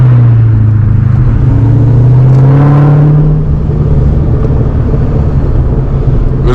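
A 500-horsepower 2003 Cobra rumbles loudly from inside the cabin, its engine note droning and rising slightly before settling into a steadier, softer cruise.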